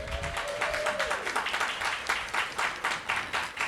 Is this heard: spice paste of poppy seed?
no